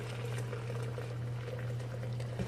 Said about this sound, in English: Look what I was really doing. Boiling water.